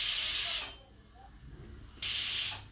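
A pressure cooker vents steam while veg pulao cooks inside, giving two loud, sharp hissing bursts with a quieter stretch between them.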